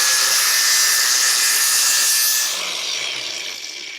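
An angle grinder, held at a tilt, cuts a V-groove into 3 mm sheet metal for an old rusty car chassis, giving a loud, continuous hissing grind that eases off slightly partway through.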